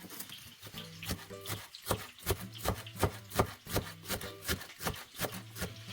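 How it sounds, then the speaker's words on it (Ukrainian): A knife chops dill rapidly on a cutting board, a steady run of crisp, close taps with brief pauses between bursts. "Тож я нарізаю кріп"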